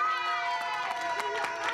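Crowd of children cheering and shouting for the winning blue team at a lively studio game show, a close, busy burst of excited voices.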